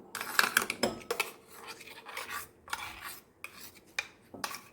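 A spoon scrapes a fine paste of ground mustard seeds, lentils and garlic out of a mixer jar into a bowl, with repeated close, rasping metal scrapes and taps in short bursts and no talking.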